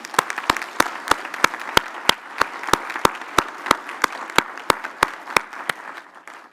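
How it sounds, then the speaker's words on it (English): An audience at a live corporate event applauds in steady, rhythmic claps, sharp evenly spaced hits over a soft crowd bed, continuing for several seconds. "I'll give her a special applause"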